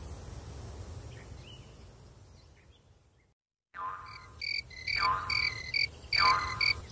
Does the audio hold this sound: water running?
no